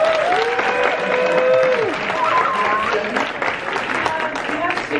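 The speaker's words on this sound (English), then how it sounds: "Let's give everyone a round of applause." A movie audience applauds the cast of the film after a screening, a loud continuous round of clapping with tonal voices and whoops mixed through it.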